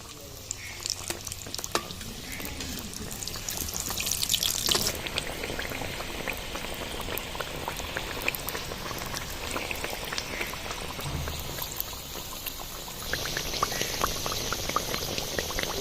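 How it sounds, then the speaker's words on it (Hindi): Potato kachoris deep-frying in hot ghee in a kadhai give a steady, close, bubbling sizzle with crackling spatters that continues throughout, with no talk over it. "कुछ इस तरह आलू की कचौरियों की तलाई जो है वो हो रही है"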